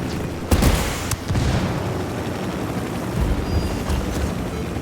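Gunfire and heavy booms from the tactical shooter game Ghost Recon Wildlands, a couple of sharp loud bursts near the start followed by a sustained rumbling din.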